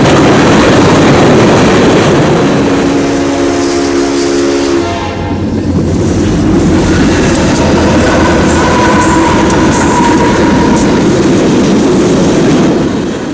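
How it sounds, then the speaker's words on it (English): Empty CSX freight train K055, hauled by Norfolk Southern locomotives, passes through Gary, Indiana, with a loud horn blast in the first seconds followed by a continuous heavy rumble and clatter of cars rolling close by. "Empty CSX train K055 has nothing but NS power on it as it passes through Gary"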